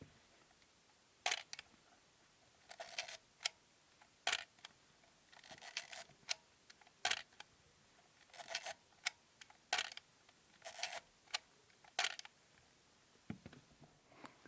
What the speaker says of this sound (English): So let's see what the shutter sounds like.